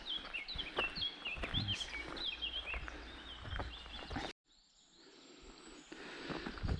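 Small birds sing in spring along a stony trail in the Carpathian mountains: repeated bright chirps and trills, faint and somewhat distant, with a brief break and occasional footstep-like thuds.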